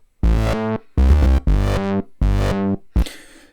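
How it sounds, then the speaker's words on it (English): Bass line played on a SONICWARE Liven XFM FM synthesizer, blending a flanged bass patch with a trumpet tone: five bright, buzzy notes in a steady rhythm with short gaps, then a noisier final hit, loud and alone. "So this time I've created a bass sound using a combination of this flanged bass sound and a trumpet"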